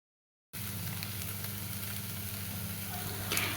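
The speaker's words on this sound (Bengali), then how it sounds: "এখন এর ভিতরে দিয়ে দিব লুডুস, দিয়ে ভাজা ভাজা করে নিব।" Noodles frying in a pan give a steady, even sizzle that starts abruptly after a moment of silence and holds at a moderate level, with a faint scrape near the end and no voices.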